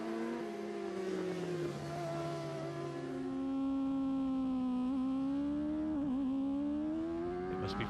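Triumph racing motorcycles on the Aberdare Park road-race circuit, engines screaming steadily at high revs with gliding pitch shifts through gear changes, growing louder toward the middle, with no voices.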